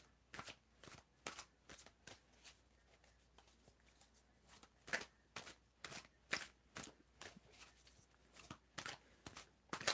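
Tarot cards are shuffled by hand in a quiet room, giving a continuous run of soft, crisp riffling and slapping strokes at an irregular rhythm, close and fairly faint, with no talking.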